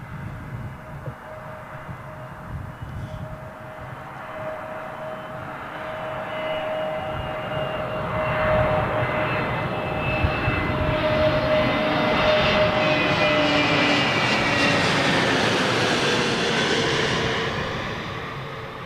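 An airplane on runway 27L at London Heathrow Airport roars past. The engine rumble builds from a moderate level to a loud, broad roar, holds, then begins to fade away near the end.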